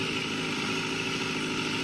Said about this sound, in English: Let's get some revs in